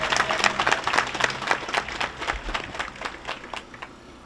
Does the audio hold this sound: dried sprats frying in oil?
no